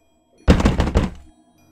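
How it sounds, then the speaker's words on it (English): Someone knocks frantically at a wooden bedroom door, a sudden heavy thump followed by a quick run of about four loud raps, close by and ending in quiet. "there came a knocking at my bedroom door"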